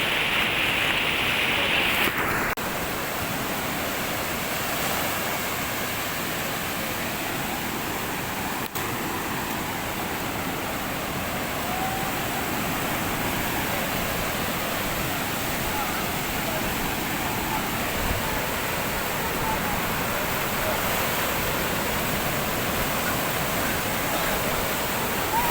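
Sea waves on Kuakata beach in Bangladesh during the rainy season make a steady, dense roar of surf that carries on without a break, with a short bright tone at the start.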